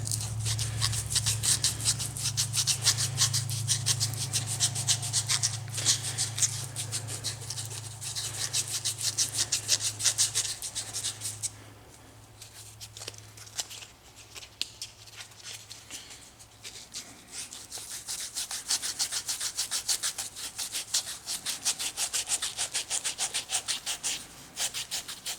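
Wood for a miniature Christmas tree is hand sanded with 320 grit sandpaper, a soft, steady, close scratching rub in continuous strokes with a brief quieter pause midway.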